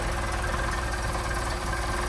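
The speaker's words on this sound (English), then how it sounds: "You can hear the engine change." A Mercedes-Benz 190SL engine with Solex carburettors idles in a steady, close rumble without a break, an even mechanical drone with a faint rhythmic knock underneath.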